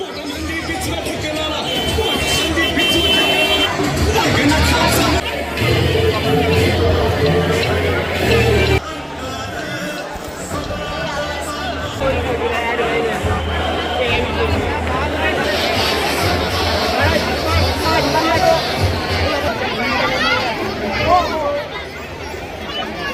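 Crowd chatter at a Ganpati festival in Jalgaon, a thick, steady babble of many voices packed close together, with a louder voice talking nearby over the hubbub.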